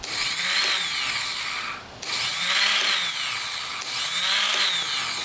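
A small ATV engine is cranked with its electric starter, giving three loud, close whirring bursts of about two seconds each with a short gap between them and no speech.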